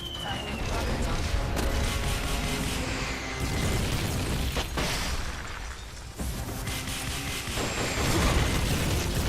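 A rocket launcher fires in Metal Gear Solid on PS5, with loud bursts and rumbling blasts layered over dense continuous game noise, close and heavy throughout.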